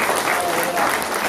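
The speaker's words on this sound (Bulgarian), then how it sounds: "Нека да ръкопляскаме всички." Applause from a gathered crowd at a christening ceremony, a short burst of steady clapping filling the room.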